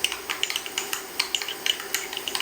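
A utensil briskly stirs mayonnaise and mustard together in a bowl for a Cuban sandwich, making quick, rhythmic ticking scrapes and clicks, close and clear, with no talking.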